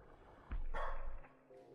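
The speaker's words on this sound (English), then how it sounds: "Oh, dog!" A dog in a video game gives a single loud bark, with quieter background sound before and after.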